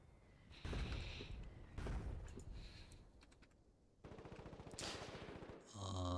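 Bursts of rapid gunfire in an online shooter game, several separate rattling volleys a second or so apart, fairly close, with a short chiming game sound at the end.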